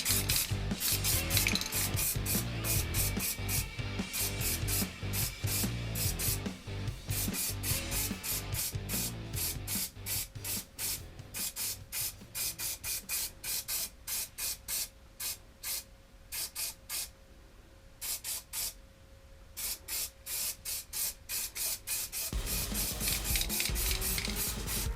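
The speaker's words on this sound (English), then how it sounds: "this is why I'm using just a sprayable putty rather than the JB Weld" Sprayable putty hisses from an aerosol can onto a cosplay prop sword replica of Cloud Strife's Buster Sword, in rapid close bursts that pulse and pause unevenly, with no talk.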